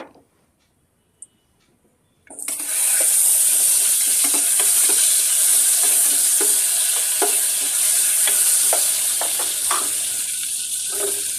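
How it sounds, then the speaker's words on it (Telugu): Ingredients for pumpkin halwa frying in a pan: after a near-silent start with one small tap, a loud, steady sizzle begins and continues, with scattered clinks and scrapes of stirring. "ఇవి కొంచెం గోల్డ్ కలర్ వచ్చే వరకు వేయించుకోవాలి"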